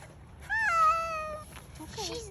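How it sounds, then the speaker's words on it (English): A distressed pet cat gives a loud, drawn-out meow followed by a shorter, softer one, sounding close by with faint background noise outdoors in the cold. "She's never meowed like this."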